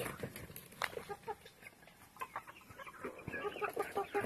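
Village hens clucking in a farmyard, a faint scatter of short clucks and soft calls heard at a distance, with other poultry such as turkeys, geese and ducks kept nearby.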